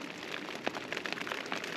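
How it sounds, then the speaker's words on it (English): Steady rain falls outdoors where someone is photographing buzzards, a soft continuous hiss with light scattered drops, fairly faint and even throughout. "hope the rain stops"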